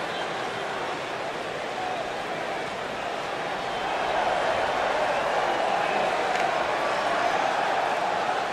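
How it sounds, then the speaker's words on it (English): Arena crowd in the WWE 2K19 wrestling video game before a Hell in a Cell match, a steady roar of massed voices that swells slightly partway through and stays continuous throughout. "would you listen to this crowd?"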